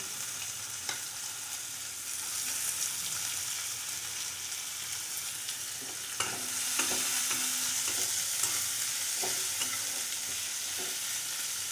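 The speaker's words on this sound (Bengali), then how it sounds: "পেঁয়াজ কুচিগুলো এপাশে ভাজা হচ্ছে" Chopped onions sizzle and fry in a pan of oil tempered with a whole dried chilli and cumin seeds, a steady close crackle with occasional stirring scrapes and small spatters, heard alone throughout.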